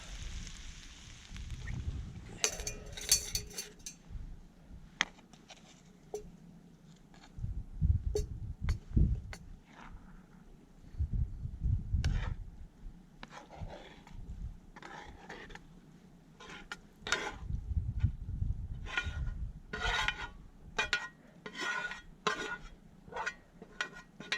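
Food scraped and tipped into a pot outdoors on a Brecon Beacons hike, near the spot where a homemade Trangia stove is used: scattered clinks and scrapes of metal cookware come in bursts between rustling handling noises.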